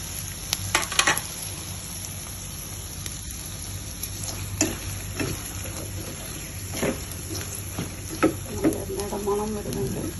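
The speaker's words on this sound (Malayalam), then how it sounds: "ഇഞ്ചി, പച്ചമുളകും കറിവേപ്പിലയും കൂടെ ഒഴിച്ചിട്ട് വഴറ്റുവാണ്." Ginger, green chili and curry leaves sautéing in hot oil give a steady sizzle with scattered crackles and occasional utensil scrapes, mid-distance, with faint background sounds and brief voices in places.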